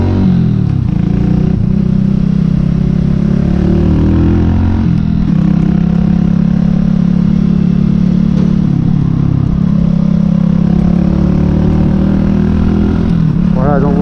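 An Archive Scrambler 125 (AM64) motorcycle fitted with a baffled Megaton silencer runs with a steady, loud, low engine drone, its pitch shifting through throttle changes and gear shifts, with a rising rev near the end.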